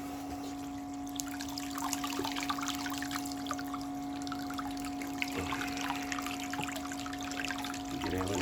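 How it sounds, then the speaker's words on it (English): Water runs steadily through a gold sluice box, a continuous trickling and pouring wash with small splashes, close and fairly quiet, accompanied by a constant low mechanical hum from a pump. "We'll turn the water up a bit."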